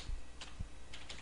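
Brief bursts of keystrokes on a computer keyboard as a website address is entered, a few separated taps at close range with no one speaking.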